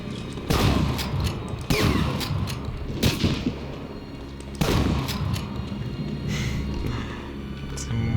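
Gunfire from the video game Medal of Honor Breakthrough: several sharp, loud shots and bursts ring out, with a heavy blast near the start and another mid-way, each trailing into echoing decay.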